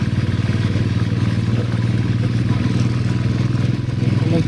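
A motorcycle rides along a badly broken, narrow mountain road, its engine droning loud and steady throughout with clattering rattles from the rough surface.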